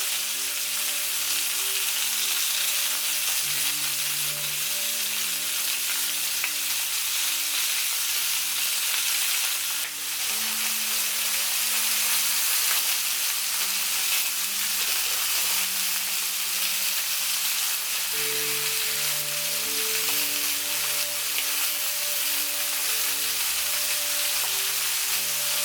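Two smoked sausages, chipolatas and merguez fry in a pan, giving a continuous close sizzle and crackle under a steady low hum, with no voices.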